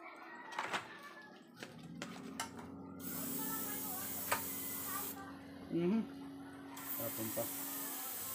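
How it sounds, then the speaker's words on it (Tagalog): Spray paint is applied to a micro fishing jig in bursts: hissing sprays start and stop among clicks and handling knocks, close by, with a few brief vocal sounds mixed in. "Umpisahan natin mag-spray."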